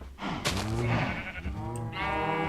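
Sheep in the Minecraft video game give two or three drawn-out wavering bleats, close and clear, one after another with no talking over them.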